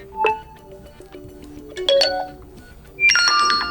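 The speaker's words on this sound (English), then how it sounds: "at ringtone, you can smoothly change the voicemail notification sound" Voicemail notification tones on an OPPO A15s phone: three short melodic chime previews, each a bright electronic ding-like ringtone, separated by quiet gaps.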